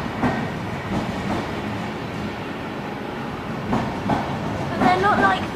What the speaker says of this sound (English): It's a commuter train, but looks quite a lot like an IC.